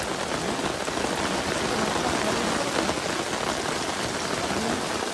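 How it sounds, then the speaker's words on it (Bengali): Heavy rain pours steadily during an outing to catch fish. The rain makes a dense, unbroken hiss of drops hitting surfaces, loud and close, with no other sound standing out. "সারা দিন ধরে বৃষ্টি, থামার কোনো নামই নেই।"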